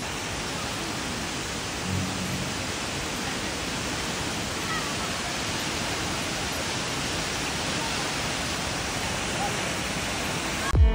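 A roadside waterfall in Meghalaya roars as a loud, steady broadband rush of falling water, with a faint voice under it.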